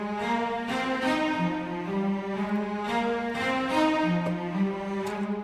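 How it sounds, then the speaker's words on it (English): A cello playing marcato, layered with brass in an orchestral mock-up of a Final Fantasy VII battle theme, punches out strong, accented notes in a rhythmic line, with a bright brassy edge and no voices. "another cello, which is actually layered with the brass"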